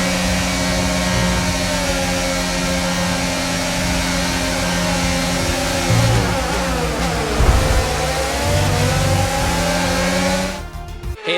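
A Ferrari Formula 1 car in F1 22 rolls slowly into parc fermé, its engine droning loud and steady with shifting pitch before cutting out at the end, with no one talking.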